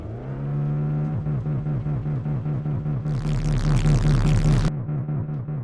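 A video-game car engine revs in a loud, pulsing drone, surging higher partway through with a hiss of added noise before settling back.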